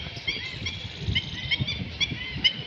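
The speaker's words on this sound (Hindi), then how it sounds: "उधर देखो बतख भी घूम रही है और बतख ज़्यादा है" Repeated nasal honking calls from ducks, several in a loose irregular sequence, moderately close over a low rumbling background, at Sambhar Lake, Rajasthan, India.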